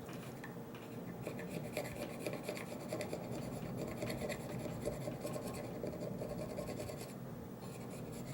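Steady rasping scrape of a blade working residue off a Cold Steel Large Lawman knife, a continuous close, dry rubbing that runs for several seconds without pause.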